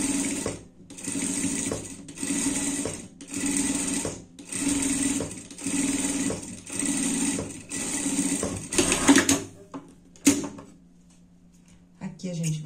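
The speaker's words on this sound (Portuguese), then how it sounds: "Passar a costura aqui por tudo" A sewing machine stitches fabric around the nose piece of a panda-themed pet outfit, running in about seven steady, close whirring bursts separated by short pauses, then stopping.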